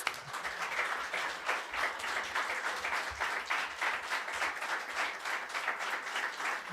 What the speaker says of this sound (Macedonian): Ајде, аплауз.